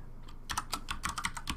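Steady, quick typing on a computer keyboard as a problem is entered into an Excel spreadsheet. The keys click close and clear in an even run, with no voices.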